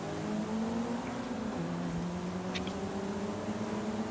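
A Mitsubishi Evo III in a Forza Horizon drag race against other Evos, its engine droning steadily at high revs with a gear shift partway through, heard close and alone without talk.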